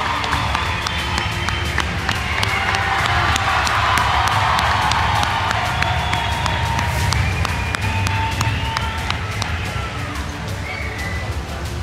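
A crowd applauds and cheers two fighters at the Barcelona presentation of La Velada del Año IV boxing event, with dense, sustained clapping and a roar of voices filling the hall throughout.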